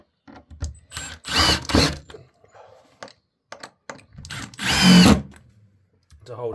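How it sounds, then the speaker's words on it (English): A power drill drives a screw into scrap wood while building a wooden planter, short whirring bursts separated by pauses, with some speech in between. "I'll screw that in"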